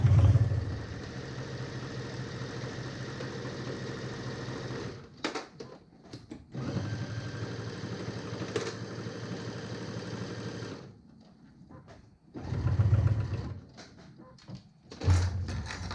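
A sewing machine stitches backpack fabric from corner to corner in steady, close runs of humming, rapid needle action, broken by short pauses and soft handling clicks between seams.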